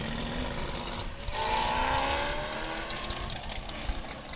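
Race car at the Sandhills Open Road Challenge, an open road rally, passing by with a steady engine roar that swells mid-pass and then trails off, fairly loud and heard alone with no talk.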